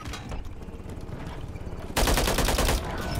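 Dual-wielded Uzi submachine guns fire in Warzone, a rapid continuous burst that swells loud for about a second over steady background game noise.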